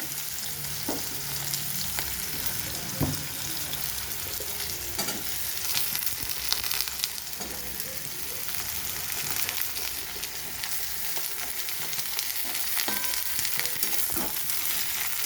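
Mixed vegetables stirred and fried in a pan for a home-style mixed vegetable dish, a steady close sizzle broken by repeated scraping and clinking stir strokes throughout, no talking.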